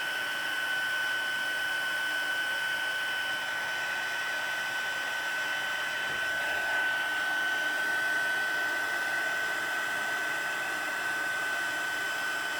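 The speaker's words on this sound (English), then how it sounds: "Hold the heat gun under that again," A heat gun blows a steady, even airflow for heat embossing on a Stampin' Up! frosted foliage card, holding a constant tone throughout with no talking.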